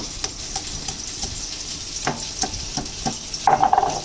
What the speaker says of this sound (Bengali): তারপরে একটু ভালো করে হিটটা বাড়িয়ে দিয়ে পটলগুলিকে ভালো করে ভেজে নিচ্ছি।